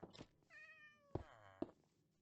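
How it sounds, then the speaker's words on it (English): A pet cat meows in a room, one drawn-out, rising-and-falling meow with two sharp thumps close by, fairly faint and alone. "my cat just came out from underneath the bed"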